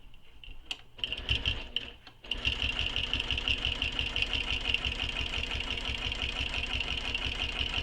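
A sewing machine stitches along marked lines on a circular bag, starting with a few short stuttering bursts and then running in a loud, continuous, fast mechanical whir close by.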